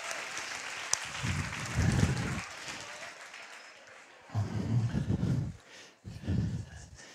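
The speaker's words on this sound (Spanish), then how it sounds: "Un aplauso, lo han hecho muy bien" A group of participants at a team-building workshop applauds after a rhythm exercise; the clapping is fairly quiet and scattered, broken by louder bursts of low voices and thumps.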